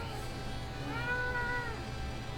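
A cat gives a single drawn-out meow, rising and then falling, at moderate volume over a steady low background hum.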